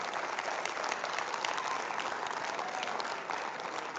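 An audience at a university entrepreneurship development programme bursts into sustained, dense applause that stays loud and even for several seconds.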